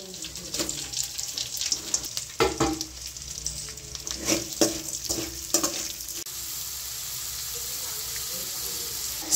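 Onion, chili and curry leaves dropped into hot oil in a kadai for chicken fried rice, crackling and sizzling with clattering stirs, then settling into a steady hiss.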